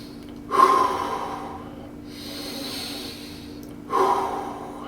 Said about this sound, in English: then take 2 deep breaths